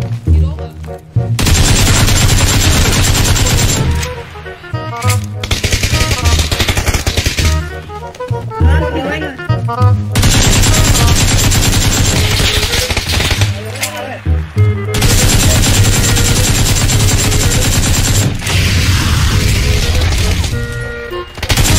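Rapid AKM assault rifle fire with an X6 scope in a PUBG-style shooter game, dense sustained automatic bursts with brief pauses, loud and close, while someone talks over the shooting.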